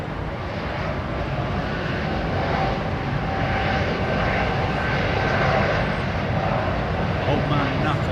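Airliner engines spooling up at London Heathrow Airport, a steady broadband roar holding at constant loudness throughout, with people talking over it.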